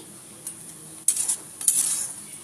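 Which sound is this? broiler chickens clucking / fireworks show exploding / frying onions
frying onions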